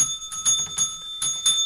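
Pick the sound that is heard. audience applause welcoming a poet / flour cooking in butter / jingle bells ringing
jingle bells ringing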